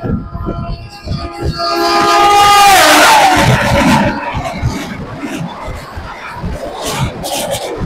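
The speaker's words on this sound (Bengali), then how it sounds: "টাটানগর খড়গপুর মেমু ছেড়ে বেরোলো শর্টডিহা" A Tatanagar–Kharagpur MEMU train running, a loud rumbling rattle of wheels with a rising and falling horn blast in the middle, plus crowd noise around it.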